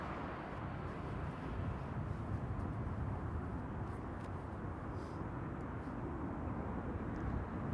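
A LOT Boeing 737 MAX 8 airliner arriving from Warsaw at Amsterdam Schiphol Airport. Its engines make a faint, distant, steady low roar that blankets the scene without rising or falling, and no one speaks.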